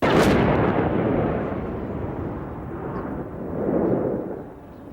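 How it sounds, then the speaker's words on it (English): A TNT and plastic explosive charge detonates a bomb with a sharp, loud initial blast that decays into a long, rolling low rumble, swelling again before fading. "What I've done is I've just put a charge on the back of the bomb, some TNT and some plastic. That's going to detonate the main filling in the bomb."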